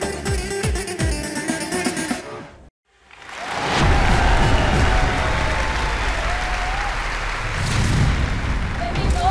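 A studio audience at the Turkish talent show Yetenek Sizsiniz Türkiye bursts into loud, sustained applause after a brief silence, filling the room with dense clapping that follows a stretch of music and voices.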